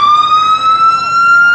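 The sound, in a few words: volunteer ambulance siren in rodeo parade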